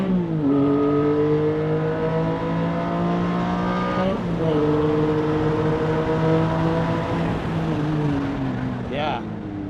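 A Porsche 718 GT4 flat-six drives on a race track, its loud engine drone rising steadily through the gears with brief drops at shifts, heard from inside the car under a constant roar.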